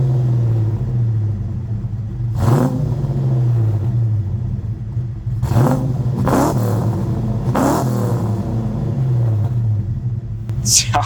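A car on new wheels and exhaust idles with a steady, deep, lumpy rumble, broken by several sharp throttle blips that rise and fall. A voice talks over it.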